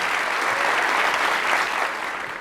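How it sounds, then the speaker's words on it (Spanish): An audience gives a strong round of applause to welcome a speaker at a documentary presentation, dense continuous clapping filling the room and tapering slightly at the end. "reciban con un fuerte aplauso."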